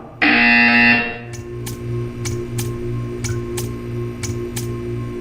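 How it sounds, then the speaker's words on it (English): A loud, harsh electronic buzzer from the Portal 2 video game sounds alone for about a second, then cuts off into a quiet, steady mechanical ticking with faint background hum. "You will hear a buzzer."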